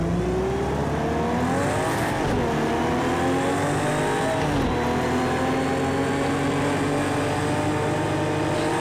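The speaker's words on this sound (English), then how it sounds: "Flip on the downshift, Owen" Race car engines roar continuously in the Automobilista 2 racing game, rising and falling through gear shifts with a sustained whining drone, loud and close, with no talking.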